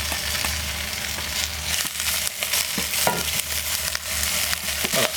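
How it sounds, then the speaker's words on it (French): Thin cuttlefish slices sear in olive oil in a pan, a close, steady sizzle broken by scraping stirs and clicks of a utensil, with no talking. "on va faire saisir nos petites tranches de sèche émincées assez finement"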